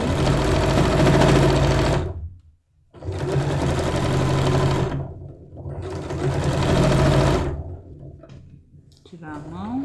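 A sewing machine stitching patchwork fabric pieces together for a four-patch block runs in three long, steady whirring bursts with short pauses between them, close and loud.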